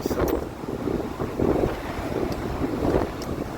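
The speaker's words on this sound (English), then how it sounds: "it's windy here in Texas" Steady wind buffeting a microphone outdoors in Texas, a continuous low rumbling roar with gusty surges, no voices.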